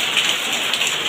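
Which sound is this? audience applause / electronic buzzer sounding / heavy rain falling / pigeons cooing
heavy rain falling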